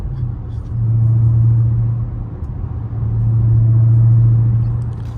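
A Dodge Hellcat drives through city streets, its engine droning in two rising surges of low, strained revving with a steady rumble between them, heard close from inside the car.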